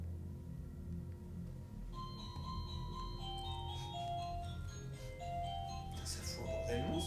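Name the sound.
house doorbell playing a chime melody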